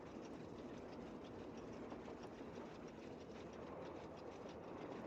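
A train in a Nancy Drew video game starts up on its tracks, giving a faint, continuous mechanical rumble with light rhythmic clatter and no talking.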